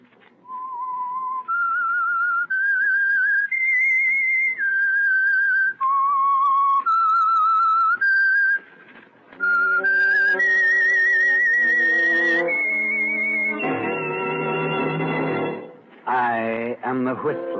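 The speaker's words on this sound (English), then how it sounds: "That whistle is your signal for the signal oil program," Whistled theme signal for a 1946 radio mystery show, a lone melodic whistle moving through stepped notes for several seconds before orchestral music swells in beneath and takes over.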